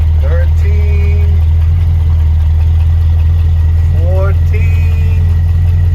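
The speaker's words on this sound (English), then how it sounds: "Let's start the car." A car engine idles steadily with a strong low hum throughout, as the old car is started and left running; voices talk briefly over it.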